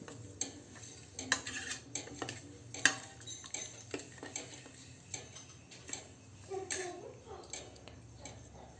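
Wheat vermicelli being stirred in a pan at home, with scraping and clinking from the utensil in irregular strokes over a faint sizzle, close and moderately quiet throughout.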